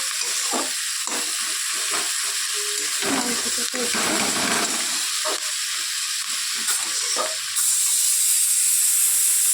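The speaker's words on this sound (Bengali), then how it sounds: "তেজপাতা গরম মশলা এইসব দিয়ে পেঁয়াজ দিয়ে ভাজছি" Onions frying in oil with bay leaves and garam masala for a home-cooked chicken dish, giving a steady, bright sizzle and hiss throughout, with a few soft clinks and muffled low sounds underneath.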